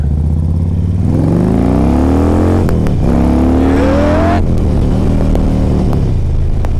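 A Harley-Davidson Street Glide CVO motorcycle engine revving up loud and close, pitch climbing through two strong pulls with a brief drop between, then settling to a rumbling idle.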